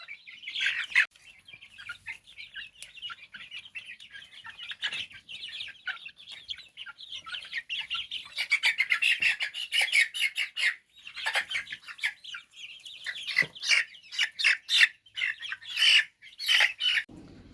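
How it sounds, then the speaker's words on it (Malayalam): A group of native country chickens, young chicks, cheeps and chirps continuously, close and busy; the calls grow denser and louder toward the end, with no voices. "ഇത് നാടൻ കോഴിക്കുഞ്ഞുങ്ങളാണ് കേട്ടോ"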